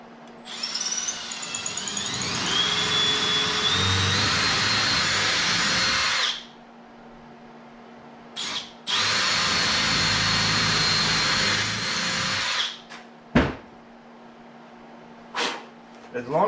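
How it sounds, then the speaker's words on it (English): A power drill whines loudly in two long bursts, boring handle holes in a bathroom vanity drawer with a steady high-pitched motor sound, followed by a few short clicks and bumps. "go ahead and drill these holes for the handle."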